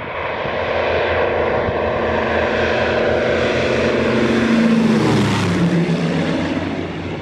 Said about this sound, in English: The Douglas C-47 Skytrain, the military version of the DC-3 airliner, known in British Commonwealth service as the Dakota